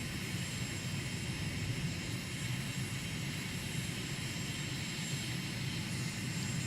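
Aircraft engine droning steadily as a plane taxis in Microsoft Flight Simulator, a constant even hum with a faint high whine on top, unbroken throughout and without voices.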